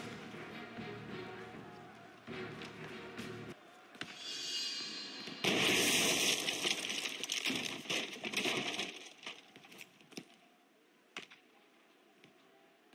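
A cannon fires in the stealth video game Shadow Tactics, a heavy booming blast with crackling, fireworks-like bursts that swell midway, then trail off into a few scattered pops amid quiet game ambience.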